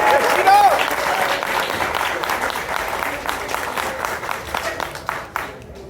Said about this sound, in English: Please, big round of applause for Shido Clark on the drums.